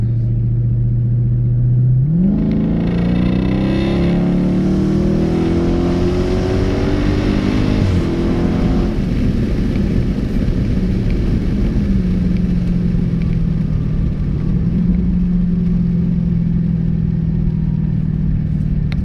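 A car engine revs up and pulls hard uphill in auto mode, pitch climbing steadily before settling into a loud, sustained rumble, heard from inside the cabin with a window cracked.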